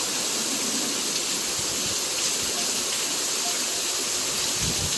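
Heavy rain pours down steadily in a dense, continuous broadband hiss, torrenting onto a roof during a July downpour, close and loud with no pauses throughout.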